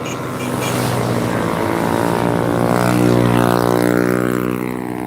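Motorcycles race along a road, their engines droning loud and near in a rising whine that peaks midway and then fades as they pass.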